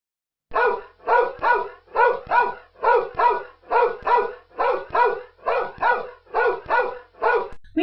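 A dog barks in a steady series of about twelve evenly spaced, loud, close barks, often in quick doubled bursts, with no talking.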